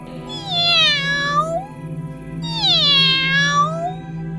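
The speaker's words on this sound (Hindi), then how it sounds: "पता नहीं ये बिल्ली आज पूरा दिन हमारे घर में क्यों घूम रही है" A house cat wandering around a home gives two long, loud, drawn-out meows close to the microphone, each rising and falling, separated by a short pause.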